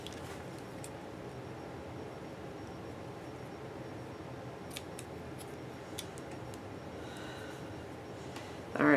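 Scissors snip through yarn while finishing a crocheted Christmas sweater, giving a few faint, brief clicks over a steady background hiss.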